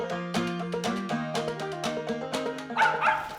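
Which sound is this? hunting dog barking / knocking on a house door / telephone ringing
hunting dog barking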